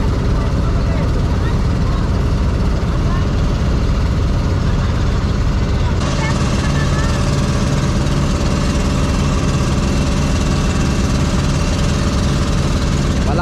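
A steady, loud engine of a passing boat drones throughout, low and rumbling, on the sea near Muyong Island, Malangas, Zamboanga Sibugay, with someone talking over it.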